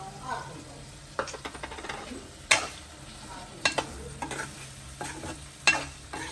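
Fried pieces of dried mackerel stirred into a tomato curry in a pan, a bubbling sizzle punctuated by several sharp metal spoon clinks and scrapes, close by, with no talking.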